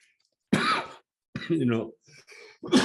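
A sharp cough bursts out, then a person speaks briefly before another cough-like burst follows.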